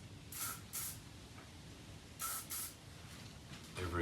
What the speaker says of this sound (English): I'm going to spray this little offending bolt here